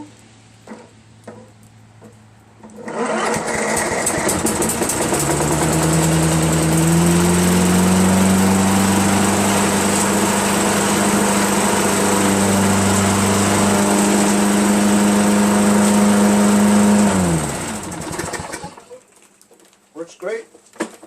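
A Toro GTS Recycler self-propelled lawn mower with a 6.75 HP Tecumseh engine starts up and runs at a loud, steady roar for about fifteen seconds, then shuts down and winds to a stop. Birds coo faintly in the background.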